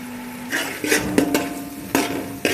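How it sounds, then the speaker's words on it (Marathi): Masala for a spicy crab curry fried and stirred in a pan, with a spoon scraping and clinking against the metal in quick strokes over a low, steady sizzle. "दोन मिनटं फ्राय करून घ्यायचा आहे मसाला।"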